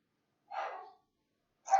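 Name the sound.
dogs barking at someone coming in the door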